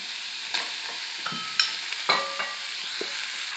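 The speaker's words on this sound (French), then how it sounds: "je verse l'oignon et le gousse d'ail, la viande hachée" Chopped onion, garlic and ground meat sizzle in hot vegetable oil in a pan, a steady soft hiss broken by several sharp clinks and scrapes of a utensil stirring, with no talking.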